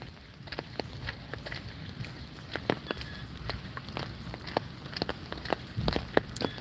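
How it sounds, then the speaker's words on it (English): Rain falls outdoors in steady patter with scattered sharper drips striking nearby surfaces, moderately close, and no talking. "It's raining here."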